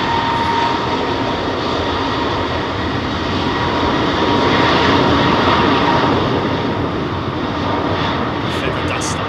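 An Airbus A321neo taking off at London Heathrow, a loud, steady broadband jet roar that swells slightly midway, with a voice speaking over it.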